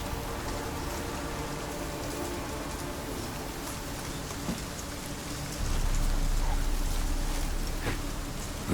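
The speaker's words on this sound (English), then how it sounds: "Looks like rain." Steady rainfall patters down in the open-world game Witcher 3: Wild Hunt, a dense even hiss of drops that swells louder partway through, with no voices over it.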